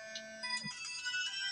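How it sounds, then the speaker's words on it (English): A mobile phone rings with a short electronic melodic ringtone, clear and fairly close, a few tonal notes stepping downward and then overlapping brighter chimes. "That's my phone."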